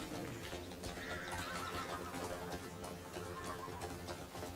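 A horse in the video game Crimson Desert whinnies loudly and rather close, over rhythmic hoof clops and a busy background, with no one speaking.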